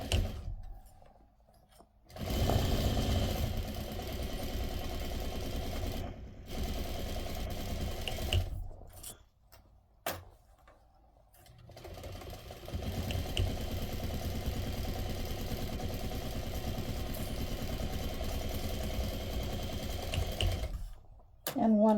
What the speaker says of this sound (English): Back stitching at the beginning and the end.